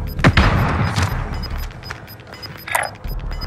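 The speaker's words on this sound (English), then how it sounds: "Stun grenade out." A stun grenade goes off in the Warzone video game: a loud, close boom with a short burst of gunfire-like crackle, then a rumbling tail and a second, fainter thump near the end.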